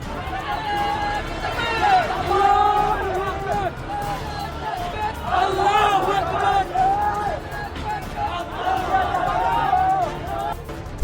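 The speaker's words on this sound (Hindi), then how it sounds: "पहले नाराए तकबीर की नारेबाजी की" A large crowd of protesters outside a newspaper office in Dhaka, Bangladesh, chanting Nara-e-Takbir slogans in a loud, continuous hubbub of raised voices and shouted calls throughout.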